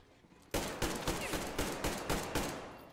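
Rapid gunfire in Metro Exodus, a burst of loud shots cracking in an uneven rhythm after a quiet start, close and alone with no talking.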